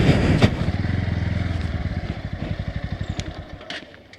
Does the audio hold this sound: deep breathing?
no